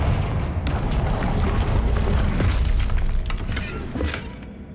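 A Confringo blasting spell explodes in Hogwarts Legacy, a sudden loud boom followed by a sustained, crackling rumble of breaking debris that lasts several seconds before easing off.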